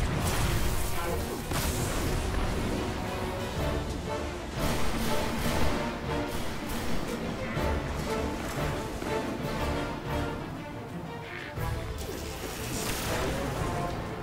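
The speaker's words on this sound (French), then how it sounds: "C'est une espèce d'arme à impulsion que j'ai remplacée par le fusil à pompe" Weapon fire in the Destiny alpha on PS4, a pulse weapon delivering dense bursts of rapid shots and booming impacts, loud and nearly continuous with short pauses between volleys.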